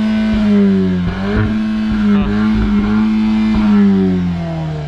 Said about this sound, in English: Bounce it off the rev limiter a few times.